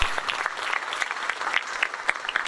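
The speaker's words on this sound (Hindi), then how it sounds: "बड़े लोग जो बैठे हैं इनके लिए जरा जोर से तालियां बजाइए" Audience of seated adults clapping for a large group of schoolchildren at a healthy-living talk: a brief burst of dense, steady applause with a few sharper individual claps standing out, and no voices over it.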